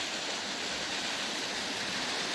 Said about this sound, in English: Lots of waterfalls going down this stream.